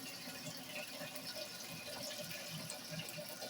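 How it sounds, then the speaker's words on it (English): Water pours steadily into a homemade water recycling filter system, a continuous splashing rush that stays even for several seconds with no one speaking. "Then we're going to take this, pour it in there."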